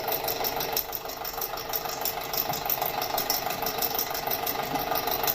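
A 2006 Audi A4 with the 2.0T engine idling with a misfire, a steady mid-pitched running hum with faint irregular knocking and a high whine, heard close and without talk.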